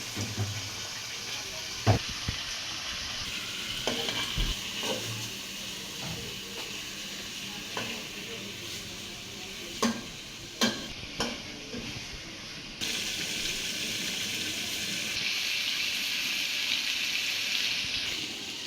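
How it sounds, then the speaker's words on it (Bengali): Fish sizzling and frying in a hot pan, a constant hiss broken by occasional stirring clatters and scrapes, close by. "মাছগুলো কষানো হয়ে গেছে"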